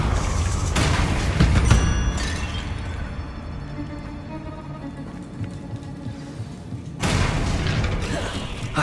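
Incendio, Bombarda and Confringo spells fired in Hogwarts Legacy during a spider fight: loud booming blasts and crashes at the start, a quieter stretch of game ambience, then another heavy burst of impacts near the end.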